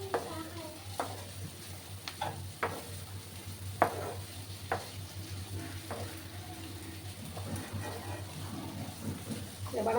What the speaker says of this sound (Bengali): ভালো করে আমি এটাকে একটু নাড়াচাড়া করে নিচ্ছি।